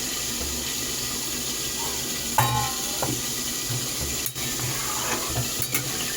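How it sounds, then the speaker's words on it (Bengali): Water is poured into a pot of home-style vegetable dal seasoned with cumin, giving a steady splashing, sizzling wash with a few brief clinks and stirring sounds partway through. "এতে আমি একটু পরিমাণ মতন জল দিয়ে দিচ্ছি।"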